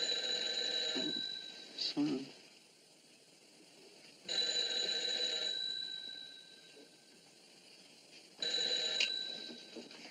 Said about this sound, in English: your phone's ringing. It's ringing there.